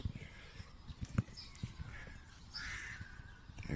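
Crows cawing around ornithological mist nets set up outdoors in a light breeze, a few harsh calls at moderate distance over soft wind and scattered low rustling, no talk.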